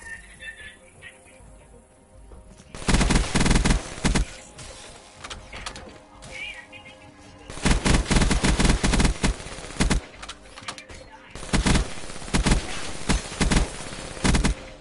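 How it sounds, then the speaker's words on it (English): Black Ops 3 multiplayer gunfire erupts in loud, sustained automatic bursts, broken by short quieter gaps between volleys. "I'm just shooting everywhere."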